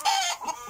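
Hens cluck at feeding time over ground corn, wheat and feed chalk, two quick close bursts of clucking alone with no talk.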